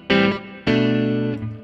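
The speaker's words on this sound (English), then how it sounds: "I've got a reverb here. Just the spring reverb." An electric guitar played through a spring reverb in a Line 6 M13 effects rig rings out two strummed chords, each with a bright attack and a lingering, slightly metallic wash of sustain, with no talking.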